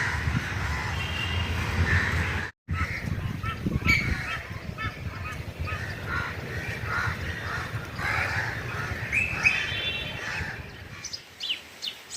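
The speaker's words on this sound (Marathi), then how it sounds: "इथं आहे ना कावळ्यांचे भांडण चालू आहे बरं का" A flock of crows caws and squawks harshly over and over, overlapping calls in a noisy outdoor garden squabble that continues throughout.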